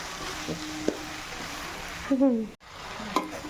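Okra frying in a pan as it is stirred, with a soft sizzle and a few scraping clicks. A brief voice or squeak is heard midway.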